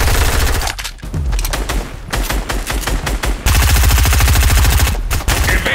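Dense rapid gunfire from a Fortnite short film, continuous machine-gun bursts with brief gaps, loud and close throughout.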